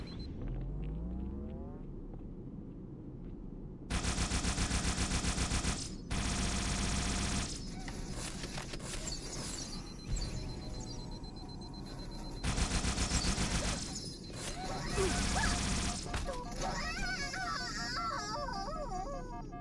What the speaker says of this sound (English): The dude's just like coming out shooting a million bullets at me.